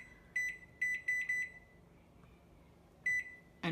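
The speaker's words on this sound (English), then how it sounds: "I'm going to set a timer for 10 minutes" A kitchen timer being set while boiling eggs for deviled eggs gives a quick run of sharp electronic beeps, then a pause and one more beep, clear against a quiet kitchen.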